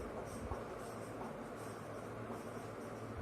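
A pen or marker writes out a Class 10 maths problem about two poles of equal height, faint scratchy strokes in short bursts over a low steady background hum.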